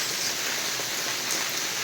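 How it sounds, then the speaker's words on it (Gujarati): Steady rain falls at Kalasar, Chotila, in an even, hissing wash, with no other sounds standing out. "વરસાદ ઘણા સમય બાદ વરસાદ"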